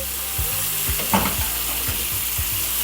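Steak frying at home in a pan, its fat rendering, gives a steady, close hiss of sizzling with a few soft low knocks from the pan, and no voices.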